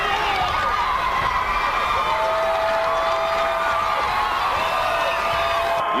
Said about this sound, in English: You can hear the crowd here at the Bob Devaney Sports Center going wild